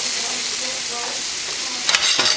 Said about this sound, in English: Just trying to sweat them so they become all translucent and yummy.